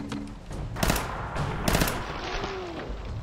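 Gunfire from the Fallout 4 video game during attempts at headshots, two loud broadband bursts near the start and middle over constant game ambience and combat noise, with no talk.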